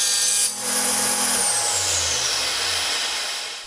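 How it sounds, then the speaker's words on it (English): A table saw cuts through a 14mm aluminium round bar clamped down so it cannot spin, a loud steady high-pitched whine with grinding throughout that slowly winds down at the end, no voices. "After deciding on the measurements, I cut a small section off on the table saw."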